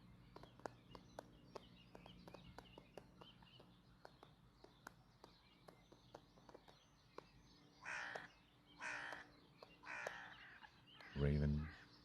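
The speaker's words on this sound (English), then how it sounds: "Raven." A raven calls from a treetop at an alpine viewpoint at sunrise, several hoarse croaking caws spaced a second or so apart, then a louder closer call, over faint clicks and light footsteps.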